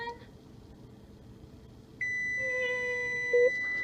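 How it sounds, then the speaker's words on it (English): A kitchen timer beeps while pickled eggs are made at home, a steady electronic tone starting partway through and holding to the end, with a brief louder chirp near the finish, fairly faint. "we're going to take this and shut the timer off there"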